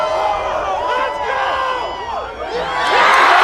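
A crowd in a park cheers and whoops for a man eating cheese balls, with many voices shouting and yelling together and swelling louder toward the end.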